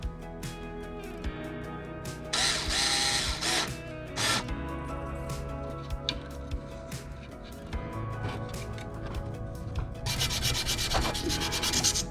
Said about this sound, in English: I'm scuffing that up just a bit because I'm going to glue that piece in.